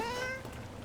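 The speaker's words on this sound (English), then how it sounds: "I just saw that I was able to pet a cat" A cat meows once in Dragon Age: The Veilguard while being petted, a short rising-then-falling mew up close that fades into soft game ambience.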